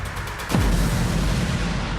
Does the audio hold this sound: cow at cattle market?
no